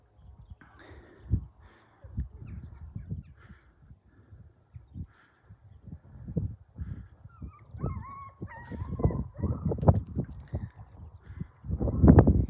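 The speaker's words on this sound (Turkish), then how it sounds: "iki tane köpek var yemin ederim" Dogs bark in scattered bursts with some whimpering yelps, growing louder and busier toward the end, with outdoor rustling in between, near water.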